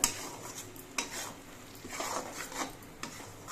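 Karonda fruit pickle is stirred through spices in a pot with a utensil, making soft, irregular scraping and rubbing strokes against the metal. They are quiet and close, with no talking.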